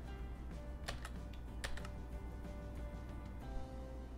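Quiet, close computer keyboard typing, a short burst of clustered key clicks with a few sharper strokes and no talking.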